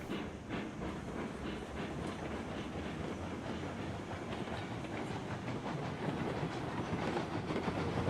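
A steam train runs in the Railroads Online video game, with a continuous rolling rumble and a rhythmic clickety-clack of wheels. It stays steady and fairly quiet, with no voices.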